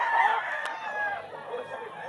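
A rooster crows once at a Bulacan pet market, a moderately loud, slightly distant crow that trails off in under two seconds over faint background murmur.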